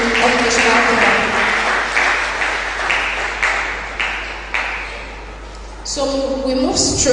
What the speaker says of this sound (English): A round of applause for the HOD Occupational Therapy.